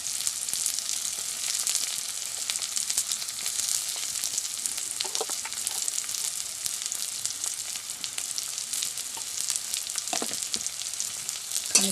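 Pumpkin stems fry with onion, garlic, salt and turmeric in a steadily hissing pan. Soft spoon scrapes and taps come through now and then under the continuous sizzle.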